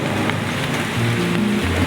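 Rain falling steadily in a mountainous area, a dense, even hiss of drops on surfaces that stays constant and fairly loud, with no voices.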